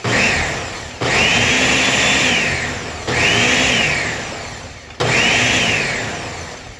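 A blender whirring blue milk in short pulses, four loud bursts of about two seconds each separated by brief pauses, each burst starting sharply and winding down.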